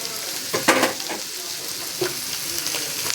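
A pan of food sizzles steadily as it is stirred well, with a couple of louder scraping strokes standing out above the continuous frying hiss.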